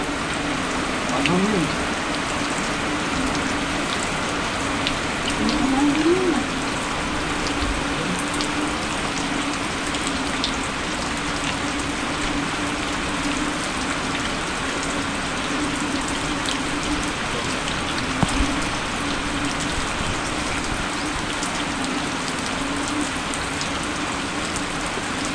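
Heavy rain pours steadily and continuously for the whole stretch, a dense close hiss with occasional louder drips, and faint talking now and then beneath it.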